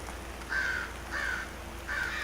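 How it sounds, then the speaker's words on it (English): Crows in the video game Vergel give three evenly spaced, clear caws, each about a quarter second long, over a steady background of falling rain. "More crows."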